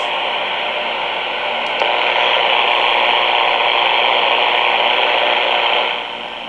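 Steady broadband static from a President Washington 10-meter mobile radio with noise reduction off hisses continuously, with a brief click near the start and a slight drop in level at the end.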